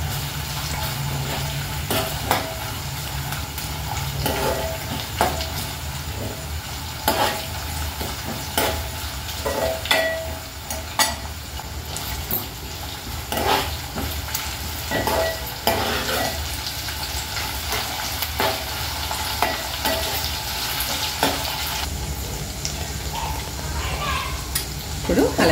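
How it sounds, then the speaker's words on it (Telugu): Ginger garlic paste fries in a pan and is stirred again and again with a utensil, a steady close sizzle broken by repeated scraping and clinking strokes, with occasional talk mixed in. "ఇప్పుడు అల్లం వెల్లుల్లి పేస్ట్ వేసుకుందాం. పచ్చివాసన పోయే వరకు వేపుకుందాం."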